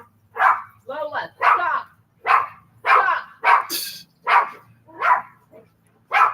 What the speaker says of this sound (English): here comes Mrs. Who with the dogs